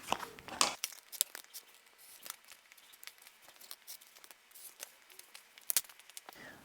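Scissors snipping through paper to cut out quilt block template shapes, a series of short crisp cuts and crinkles at close range, quiet overall with no talking.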